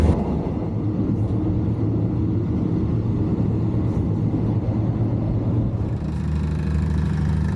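Steady low rumble of an overnight sleeper train bound for Chiang Mai, continuous rolling drone heard from inside the carriage with no talking, a slight shift in tone near the end.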